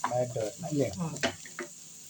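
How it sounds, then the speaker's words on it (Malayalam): Potato pieces sauté in hot oil with onions, giving a soft, uneven sizzle with a few stirring scrapes, partly under a murmuring voice. "ഉരുളൻകിഴങ്ങും ഒരു നാലഞ്ച് മിനിറ്റ് ഒന്ന് വഴങ്ങട്ടെ അതിൽ കിടന്നു"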